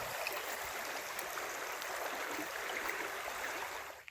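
A creek beside a camping spot flows in a steady, soft rush and babble, constant and fairly close, with no voices, fading slightly at the very end.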